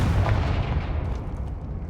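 A Confringo fire spell blast in Hogwarts Legacy lands as a loud low rumbling boom that dies away into a fading crackling roar over two seconds.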